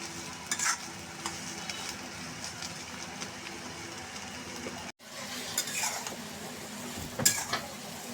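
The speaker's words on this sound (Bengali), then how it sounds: "আমি চুলা এভাবে কমিয়ে আস্তে আস্তে পেঁয়াজগুলি আমি নরম করে দেবো" Onions softening slowly in a pan over low heat give a steady, gentle sizzle, with a few light stirring scrapes and clinks of a utensil on the pan. The sizzle stops briefly about halfway through.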